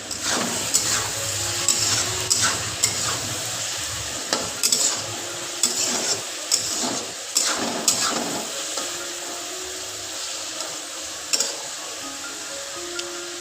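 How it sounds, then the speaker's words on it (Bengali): Snacks frying in a pan make a steady, crackling sizzle, while a spatula or utensil scrapes and clatters against the pan in irregular strokes close up, with no talking. "এগুলো ভাজা হোক, এদিকে মাংসটা কষছে"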